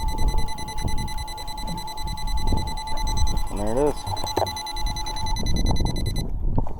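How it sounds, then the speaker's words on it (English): An electric downrigger on a fishing boat beeps steadily as it nears the top, with a voice speaking briefly partway through over a busy background of motor and water noise. "when it gets near the top, it'll start beeping and it slows itself down"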